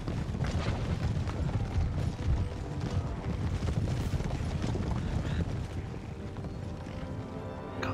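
Hussar cavalry galloping in Empire Total War, a dense continuous rumble of many hooves mixed with battle noise and distant booms, loud and sustained throughout.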